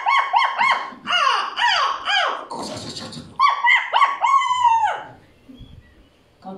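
Several dogs yapping and barking in quick overlapping bursts, loud and close, with a few squealing yips, before the noise trails off into quieter scuffling near the end.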